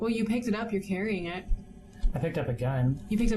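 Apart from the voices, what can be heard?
No distinct noise like a dog, phone or traffic.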